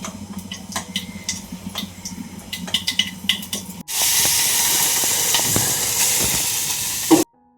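Whole tempering spices fry in hot oil, first with scattered crackles and pops, then a sudden loud, steady sizzle that runs for a few seconds before cutting off.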